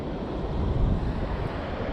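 Steady wind gusting outdoors beside the water during a bass fishing trip, a broad low rumble with microphone buffeting that swells briefly mid-way, no voices.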